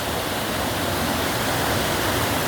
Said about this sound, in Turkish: Resmen yerden bir şelale şeklinde akıyor.